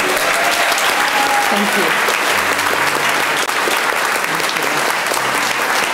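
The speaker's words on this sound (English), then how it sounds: "Shall we give a round of applause, not for me, but for that intention?" Steady audience applause from a gathered crowd, full and sustained throughout, with a brief spoken thanks rising over the clapping.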